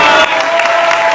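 An audience at Morehouse breaks into a loud, dense burst of applause and cheering that lasts only about a second.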